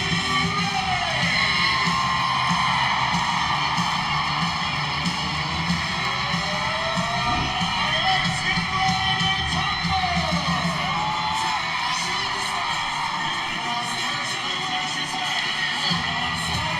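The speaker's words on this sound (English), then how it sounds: "it's a great crowd tonight for the season opener. It is loud in here" A large crowd at a season-opening Arkansas at Florida competition roars and cheers continuously, loud and dense throughout, with whoops and yells rising above a constant wall of noise.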